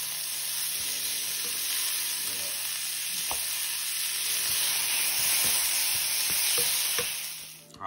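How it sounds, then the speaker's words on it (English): Mushrooms fry in a pan with a steady, close sizzle, broken by faint stirring clicks from a utensil. "I had to add the mushrooms. Let that caramelize."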